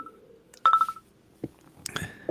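Telephone keypad tones of a podcast call-in, a few short beeps in a quick run followed by clicks and brief line noise, close and clear with no talking.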